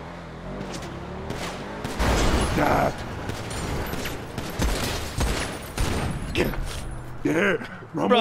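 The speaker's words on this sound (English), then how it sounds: "Bro, shooting in the car is easy as fuck." Bursts of gunfire fired from a car in a video game, sharp cracks and rapid volleys scattered over several seconds amid engine and mechanical noise, with voices talking over them.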